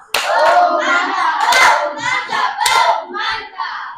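A classroom of students claps in a rhythmic group pattern, bursts of hands in time with shouted voices chanting along, loud and close with short pauses between beats.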